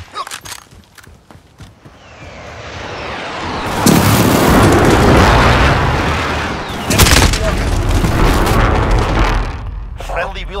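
Precision airstrike explosions rumble in a Call of Duty Modern Warfare team deathmatch match, with sustained loud booms building from quiet gunfire and footsteps, a second heavy blast near the end, and scattered shots.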